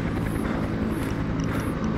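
A video game helicopter drones steadily overhead with a loud, continuous rotor hum and throbbing low pulse, heard alone without speech.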